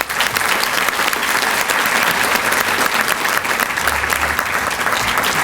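Loud, sustained applause from a large audience honoring a Lifetime Achievement Award winner at a transportation women's celebration event; thick, continuous clapping close up, steady from start to finish.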